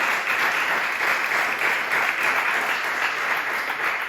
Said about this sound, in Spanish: Le puedo dar un aplauso a Jesús